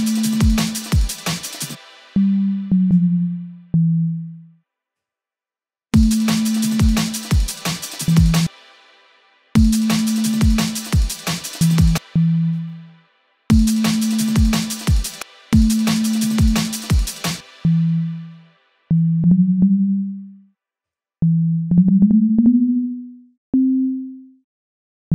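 Synth bass notes rooted on A for a drum and bass track play as a repeating pattern of sustained, gliding tones in short phrases, each phrase opening with sharp percussive clicks, loud and close, with no talking.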